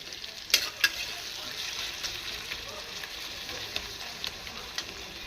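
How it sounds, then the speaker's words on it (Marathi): Ginger garlic paste roasting in a pan with chopped tomatoes for a village-style chicken masala gravy, heard as a steady hiss of sizzling with a few sharp stirring clicks near the start. "अद्रक लसूणची पेस्ट इथं आपण छान भाजून घेतली आहे"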